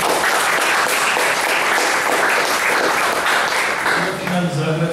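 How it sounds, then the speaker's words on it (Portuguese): Audience at a science café closing in Salvador applauds, steady dense clapping throughout, loud and close, with a voice speaking near the end. "Queria pedir aqui um salve de palmas pelo palco"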